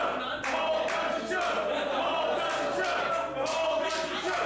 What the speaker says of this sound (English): Crowd chanting